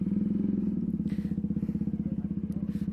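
A motorcycle engine idles close by with a steady, rapid thumping pulse throughout, fairly loud with no talk over it.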